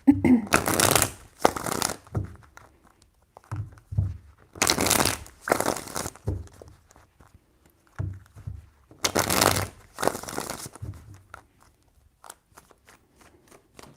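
Tarot cards are shuffled in three crisp riffling bursts, each a second or two long, close up with quiet pauses between.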